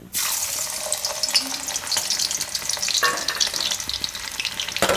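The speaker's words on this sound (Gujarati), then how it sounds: "તેમાં આપણે પહેલાં આ લસણ નાખી દેવું" Chopped garlic sizzling loudly in hot oil in a home kitchen while cooking a Gujarati pea and tomato curry, a steady crackling fry that runs throughout with brief clatters of a stirring utensil.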